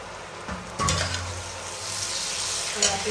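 Mutton sizzles in a pan as chopped tomato drops in with a sudden louder hiss, followed by steady frying and light stirring scrapes nearby, no talking.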